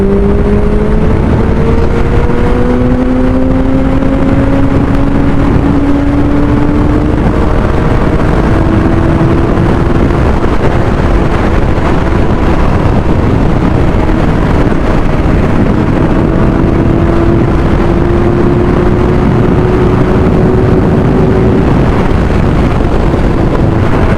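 A 2024 Kawasaki Ninja ZX-6R accelerates hard past 10,000 RPM, its engine note rising steadily in pitch and then climbing again after each shift. The sound is loud and continuous, with heavy wind rush at the microphone and no voices.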